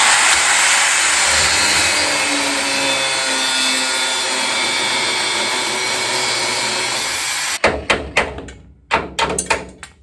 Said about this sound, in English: So the next thing I got to do is undo the bolts for the wishbones.